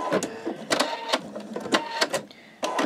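An embroidery machine stitches out a greeting card on peel-and-stick stabilizer, giving close rapid bursts of mechanical clatter in an uneven rhythm with brief pauses between runs.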